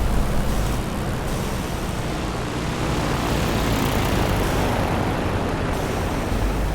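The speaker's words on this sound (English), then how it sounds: "I'm hearing another engine." Aircraft engine in a flight game, a steady loud broadband roar that drones evenly without pause, with no speech over it.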